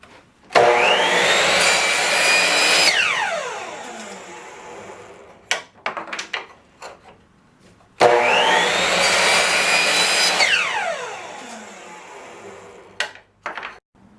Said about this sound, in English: I cut a series of these little blocks in my power miter saw